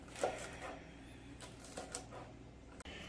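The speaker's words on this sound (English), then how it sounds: "I just got done cutting up the sprouts here" Knife chopping Brussels sprouts on a cutting board for fried rice, a quick series of quiet, close taps and clicks with a sharper knock near the end.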